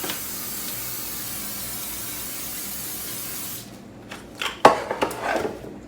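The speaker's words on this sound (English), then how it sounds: "I'm going to spray that with just some canola oil cooking spray." Canola oil cooking spray hisses steadily onto a cookie sheet for several seconds, then stops, followed by a few close clattering handling knocks.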